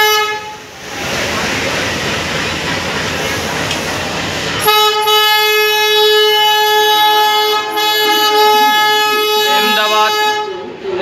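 The Kolkata-Ahmedabad express, the Saare Jahan Se Acha Express, pulls out of Bhopal Junction: loud rolling rumble nearby, then a long, steady, powerful horn blast that holds to the end.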